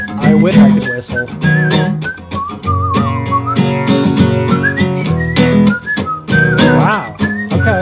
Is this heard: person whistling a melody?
yes